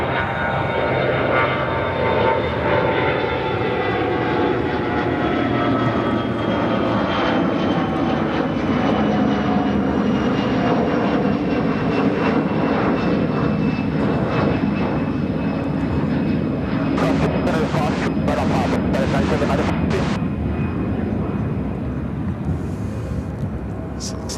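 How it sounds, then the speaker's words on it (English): An Air Wisconsin CRJ 200LR jet takes off at Chicago O'Hare, its engines giving a loud, sustained broadband roar that holds steady for the whole stretch, with faint hissing bursts near the end. "Another Air Wisconsin CRJ 200LR taking off to Montreal,"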